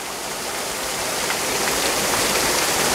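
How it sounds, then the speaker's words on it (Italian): Brenna waterfall on Lake Maggiore pours in a steady, dense rush of falling water, loud and close, with no voices over the continuous roar. "e questa è la cascata principale"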